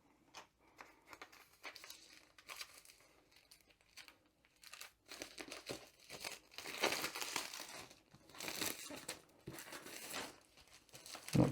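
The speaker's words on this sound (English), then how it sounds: "so the cellophane is off" Cellophane wrapping peeled and torn off a Diamond Art Club box, intermittent close crinkling and crackling bursts growing busier and louder toward the end, with quiet gaps between.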